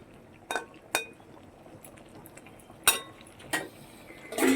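A lid set onto a cooking pot of okra being boiled, with several sharp metallic clinks and clanks spaced out over a low bubbling background, close and fairly loud, no talking.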